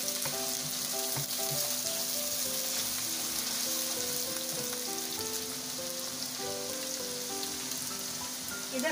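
Ginger garlic paste fries in a pan with a loud, continuous crackling sizzle, while a steady hum and faint tonal background sounds run underneath and nobody speaks.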